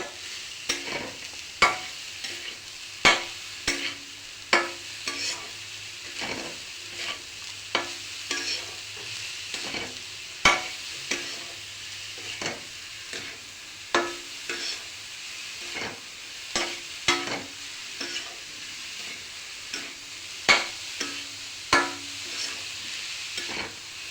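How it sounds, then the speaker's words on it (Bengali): Coconut, sugar and raisins stirred in a spoonful of ghee for a sweet filling: a steady run of scraping spoon strokes against the pan, close and moderately loud, over a soft sizzle, with no talking. "নারকেল, চিনি, কিশমিশ, একটু ঘিয়ের মধ্যে, 1 চামচ ঘিয়ের মধ্যে এটাকে আমি পুর বানিয়ে নিচ্ছি।"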